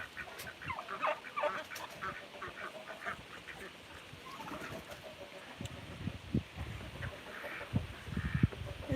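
Backyard chickens, including an Ameraucana and a Buff Orpington, cluck and squawk on a rural South Dakota farm, with irregular calls over steady outdoor background noise.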